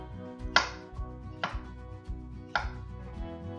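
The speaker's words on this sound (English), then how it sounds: "After removing the caps, there are a couple different ways people like to slice up their strawberries." Knife cutting fresh hulled strawberries on a board, three crisp separate chops spaced about a second apart over a low steady background hum.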